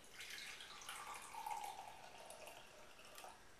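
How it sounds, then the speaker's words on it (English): Vinegar poured slowly into a clean glass, a soft continuous trickle of liquid at close range with faint splashing, lasting the whole moment with no voices. "I'm going to pour the half a cup of vinegar in"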